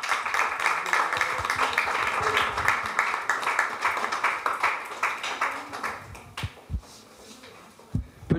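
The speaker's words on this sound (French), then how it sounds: "Peut-on applaudir encore une fois de plus" Audience applause at a press conference, dense clapping sustained for about six seconds before thinning into a few scattered claps at the end.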